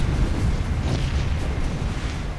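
A rocket explosion in Unreal Tournament 3 rumbles as a loud, dense, continuous boom with crackling debris, filling the whole stretch close up and slowly tailing off.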